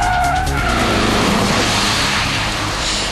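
An Audi A3 2.0 TDI skids at about 82 km/h during a moose-avoidance test, tires scrubbing and hissing loudly across the surface in one continuous slide.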